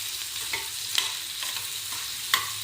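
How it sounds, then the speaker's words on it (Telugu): Onions with salt and turmeric fry in oil over a medium flame for a chutney, a soft continuous sizzle broken by a few sharp scrapes of a spatula stirring the pan, with no voices. "మంచిగా ఈ ఉల్లిపాయలు మీడియం ఫ్లేమ్లో పెట్టుకుని వేయించుకుంటే"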